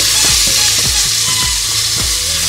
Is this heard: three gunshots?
no